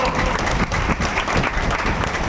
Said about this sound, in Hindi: इतनी तालियां